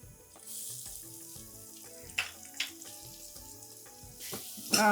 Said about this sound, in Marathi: आपण कांदा परतून घेऊया